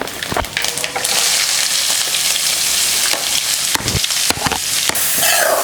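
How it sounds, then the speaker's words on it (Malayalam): Finely chopped onions fry loudly in a pan with a dense, steady sizzle, broken by occasional sharp scrapes of stirring, and no one speaks. "നമ്മുടെ സവാള ഉള്ളി നമ്മളിങ്ങനെ വളരെ നൈസായിട്ട് അരിഞ്ഞു വെച്ചിട്ടുണ്ടായിരുന്നല്ലോ അതൊന്ന് നമുക്ക് ഇട്ട് കൊടുക്കാം"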